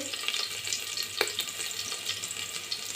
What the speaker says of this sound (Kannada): ಜಜ್ಜಿಟ್ಕೊಂಡಂಥ ಬೆಳ್ಳುಳ್ಳಿ ಹಾಕೋತಾ ಇದ್ದೀನಿ.